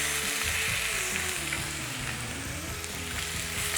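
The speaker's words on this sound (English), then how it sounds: "We want to hear that sizzling sound all the time" Steady, loud sizzling and crackling of rabbit meat frying in a hot pan, continuous throughout with no talking.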